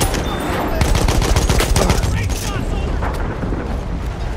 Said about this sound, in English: Machine gun! Watch it, boys!